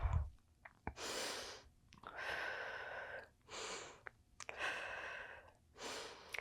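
Close, airy breaths during Pilates bicep taps, about five long rushing exhales in a steady rhythm separated by brief quiet gaps, soft and intimate with no talking.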